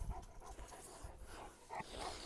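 A Cane Corso dog panting quickly and rhythmically up close, quiet breathy huffs with a few louder gasps.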